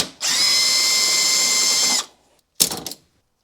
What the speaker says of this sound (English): Now we need to fully remove this nut.